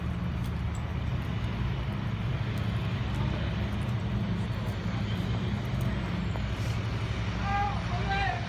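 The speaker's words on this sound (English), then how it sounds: "they had a lot of helicopters going for extra security as well" Steady low engine drone of helicopters overhead, continuous and moderately loud throughout, with faint background voices mixed in.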